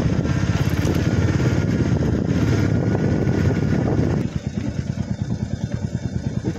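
A motorcycle riding through the cold in Sikkim, its engine droning loud and close with a steady rumbling pulse that drops to a lower, choppier throb partway through.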